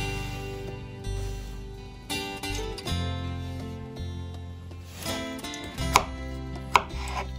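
A knife cuts boiled eggs, slicing the base flat on a board, in a series of close, crisp chopping taps with a couple of sharper knocks, over soft background music.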